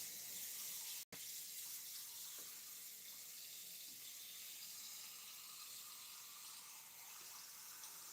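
Cold water runs from a tap into a sink in a steady, close hiss, broken by one brief cut near the start. Nobody speaks.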